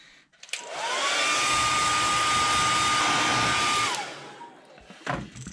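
A hair dryer drying a freshly airbrushed fishing lure, switched on for about three seconds with a loud steady whooshing blow and a constant whine, then clicked off, close by with no talking.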